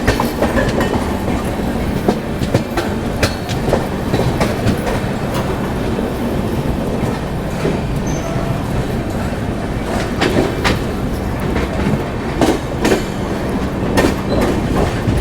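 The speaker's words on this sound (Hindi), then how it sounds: "ये है बीकानेर पुरी एक्सप्रेस।" The Bikaner Puri Express passes close by beside Chilika Lake in Odisha with a loud, steady rumble of wagons and rhythmic clickety-clack of wheels over rail joints, plus occasional faint squeals, for the whole fifteen seconds.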